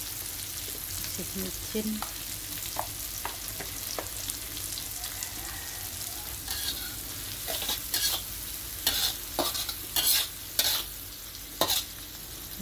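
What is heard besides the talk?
stir-frying water spinach in a pan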